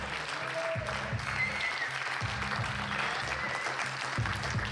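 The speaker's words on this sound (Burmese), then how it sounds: "ညပိုင်းမှာလက်ခုပ်တွေတီးပြီးတော့ကိုရိုနာဗိုင်းရပ်စ်ကူးစက်မှုကိုရှေ့တန်းကနေအကာအကွယ်ပေးနေကြတဲ့ကျမရဲ့ဝန်ထမ်းတွေကိုဂုဏ်ပြုအားပေးကြပါတယ်" Applause at night honoring frontline health workers during the coronavirus pandemic: a steady wash of clapping from many hands, heard from a distance. Low rumbling beats run underneath the clapping.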